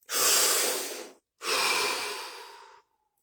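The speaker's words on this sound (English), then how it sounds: "Deep breath." One person takes a deep breath, two long, close, airy breaths separated by a brief pause, with nothing else around them.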